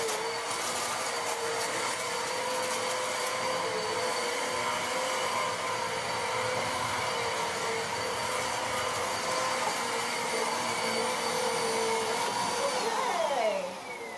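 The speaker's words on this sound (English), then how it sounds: "You don't like the vacuum crunchiness and the white noise," A vacuum cleaner runs continuously with a steady broadband whooshing roar and a sustained whine, droning evenly for the whole stretch before its pitch slides down near the end as it begins to power off, with no voices.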